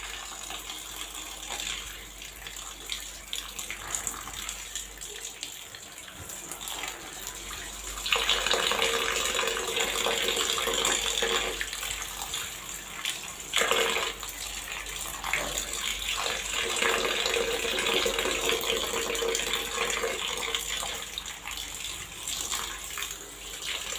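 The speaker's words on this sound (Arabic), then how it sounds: "بعد كده ما نغسل وبعدين نصفيه في قلب المصفى" Running tap water pours over molokhia leaves in a colander with a steady rushing splash, growing louder and fuller partway through as the flow strengthens or the leaves are moved, with no talking.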